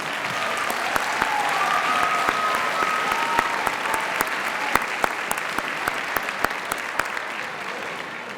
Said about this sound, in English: all of our students should be applauded